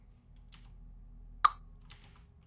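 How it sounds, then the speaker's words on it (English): A single sharp click effect from a Unity 2D game sounds as a ball strikes a player paddle, one loud tick followed by a fainter one over a low steady hum. "the clicking sound playing whenever the ball hits a player"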